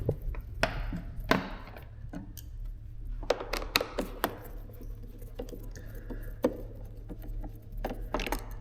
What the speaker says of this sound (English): So I'm going to remove a couple screws.